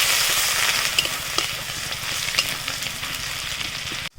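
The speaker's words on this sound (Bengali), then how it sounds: "একটু পেঁয়াজটাকে ভালো করে লাল লাল করে ভেজে নেব।" Chopped onion fries with panch phoron in a pan, a loud, continuous sizzle with scattered crackles and pops, nearby and without voices, then a brief cut near the end.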